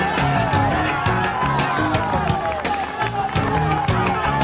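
A roadside crowd cheers and whoops along the final climb of the 1995 cycling road World Championship in Colombia, a dense continuous roar with clapping and shouts throughout.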